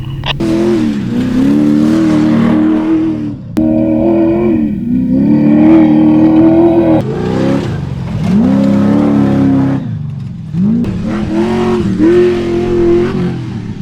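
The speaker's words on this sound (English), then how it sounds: "Need to come around this thing in a full drift." Off-road vehicle engine revving loudly as it swings around a dirt berm in a full drift at an off-road park, a rising and falling throttle roar with brief dips between bursts, close and continuous.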